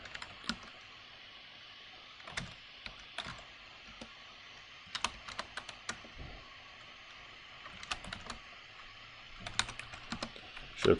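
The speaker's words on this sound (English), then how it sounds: "So I'll just type a few of these lines of data in." Buttons on a calculator's keypad are pressed in short bursts of quick, light clicks, with brief pauses between groups of presses as rows of statistics data are keyed in. The clicks are close and faint, with no talking.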